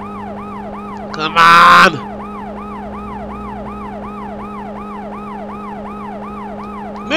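A police car siren in a police chase video game wails in a fast, repeating up-and-down cycle, loud and close over engine drone, with a brief burst of noise and a short spoken line early on.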